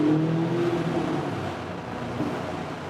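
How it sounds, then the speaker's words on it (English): Audi S3 sedan quattro, 300 hp, in dynamic mode echoes through a tunnel with rear windows down, its engine and exhaust a steady, loud drone that eases slightly toward the end. "I'm putting the car to dynamic mode, that we use all of the sound that is available from that engine and that exhaust"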